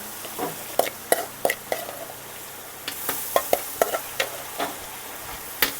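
Onion and garlic fry in oil in a pan, a steady sizzle broken by sharp, repeated stirring scrapes and clacks of a spatula at an irregular pace, close and fairly loud, with no talking.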